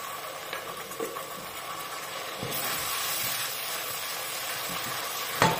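Onions nearly golden frying in a pan with condiments added, a steady close sizzle and hiss with a few stirring scrapes and a clink near the end.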